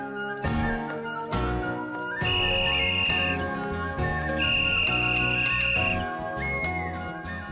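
A person whistles a melodic tune of sustained and sliding notes in a romantic comedy film scene, heard clearly over background music with no talking.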